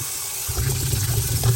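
Water runs steadily from a tap over yellow and red potatoes being washed, a continuous near gush starting abruptly after a brief quiet moment.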